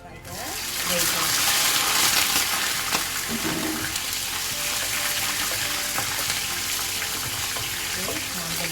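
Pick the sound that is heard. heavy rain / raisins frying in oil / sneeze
raisins frying in oil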